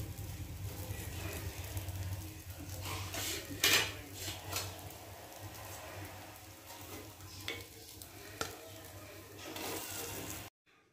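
Mixed dal appe lifted out of a hot appe pan, with soft scraping and metallic clinks of a spoon against the pan over a faint sizzle, a few sharper taps standing out.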